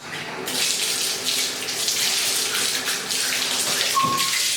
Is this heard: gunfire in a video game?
no